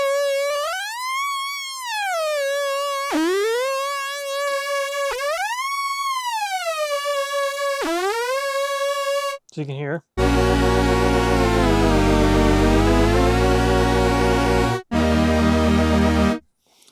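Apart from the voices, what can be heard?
Polymoog 203a synthesizer pitch ribbon bending pitch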